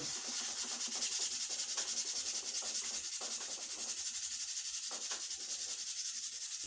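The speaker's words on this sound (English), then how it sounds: "Hit it with the sandpaper." Sandpaper rubs back and forth over a wooden axe handle in a steady rhythm of strokes, close but fairly quiet, with no talk.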